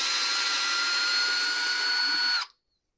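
A handheld power drill whirs steadily while backing out the side handle screws of a smashed Husqvarna 592XP chainsaw, running loud and close for about two and a half seconds before cutting off abruptly into silence.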